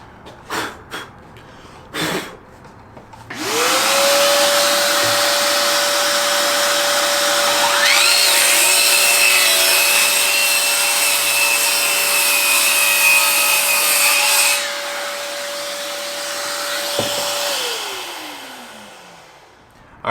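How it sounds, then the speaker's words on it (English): Ryobi brushless cordless 7-1/4 in. circular saw cutting wood with a shop vac attached: a few knocks, then the motor whines up to a steady high pitch, the blade rasps through the board, and the motor spins down at the end. "Now let's attach the shop vac and see how this operates."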